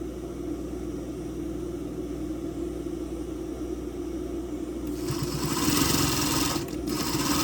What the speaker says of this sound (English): I'm just holding on it and letting the sewing machine stretch it